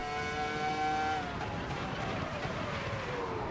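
A Ferrari F2004 Formula 1 engine shrieks at high revs in Assetto Corsa Evo, then drops sharply in pitch as it lifts and downshifts, settling into a rougher, lower roar; loud and uninterrupted by speech.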